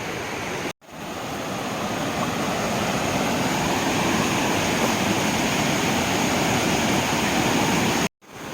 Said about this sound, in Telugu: ఇలా రాళ్ళ మించి వాటర్ అలా చిన్నగా ఫ్లో అవుతుంది.